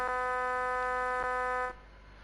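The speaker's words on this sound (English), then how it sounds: "Just release it and that'll stop the alarms." A steady, loud electronic alarm buzz from a train cab in the Train Sim World 2 video game, on a Ruhr route, sounds alone for under two seconds and then cuts off abruptly, leaving a low background hum.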